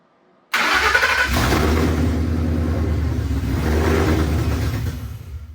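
A Ford Coyote V8 swapped into a car cranks briefly, then catches and fires up. A loud, rough, rumbling idle follows, with a slight rev, and it settles near the end.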